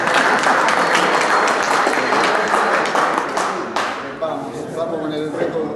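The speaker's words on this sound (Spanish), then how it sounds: "Aplausos." Applause from an audience at a rugby talk in Tucumán, a dense broadband wash of many hands clapping that stays loud and steady, then thins slightly toward the end with some voices mixed in.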